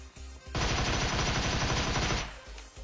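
Rapid automatic bursts from a Scorpion gun in a PUBG-style shooter game, one continuous loud stream of shots lasting nearly two seconds with quieter game noise before and after.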